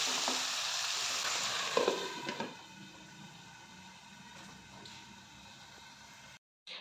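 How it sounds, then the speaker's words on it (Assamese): Fish curry with potatoes, cauliflower and tomato stirred in a pan, a steady close sizzle with scraping spoon strokes and a few louder clatters early on, then quieter simmering. "এতিয়া মাজে মাজে এনেকৈ লৰাই থাকিম"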